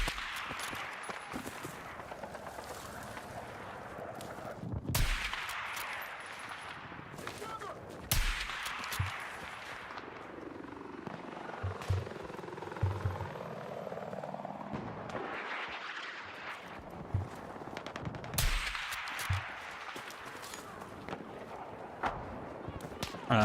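Battlefield 6 gunfire cracks in scattered, repeated bursts amid a dense battle din of explosions and rumbling, with a voice talking over parts of it.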